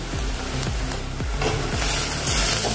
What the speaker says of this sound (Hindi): अभी इसमें हम अदरक लहसुन का पेस्ट डालेंगे।